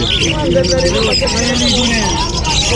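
Hand-fed parakeets chirp and twitter at a street pet market in Malabon, with close, continuous bird calls mixed into crowd chatter and people talking nearby.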